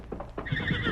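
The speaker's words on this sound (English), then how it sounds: "Did you hear that horse, Kima?" A horse whinnies at a distance, a short rising call followed by a shakier, drawn-out neigh, heard alone with no voices over it.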